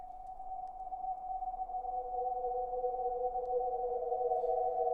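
A soft synthesized drone with two sustained tones that slowly pulse and shimmer, steady and airy throughout.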